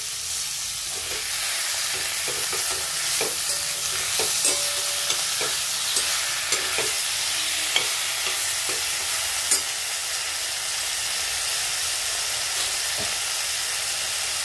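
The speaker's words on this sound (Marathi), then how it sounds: "आता आपण ही बटाट्याचे काप कांद्यामध्ये टाकून देऊ आणि याला पण चांगलं परतून घ्यायचं" Potato slices sautéed with onions in a pan give a steady soft sizzle and hiss, dotted with light scrapes and taps from stirring, with no talk.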